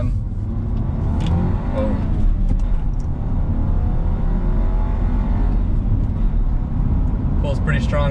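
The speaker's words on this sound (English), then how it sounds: "Not that I expected much in terms of engine noise increase, but sometimes it can wake them up a little bit." Audi B9 A4 with a Unitronic Stage 1 tune accelerating from first gear around a corner, a low engine rumble building under a voice.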